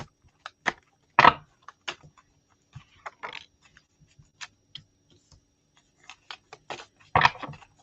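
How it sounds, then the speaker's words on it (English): A deck of tarot cards being shuffled by hand: a series of short papery riffles and taps, uneven in rhythm, close and fairly quiet, with no talking. "I'm going to give him a good shuffle here"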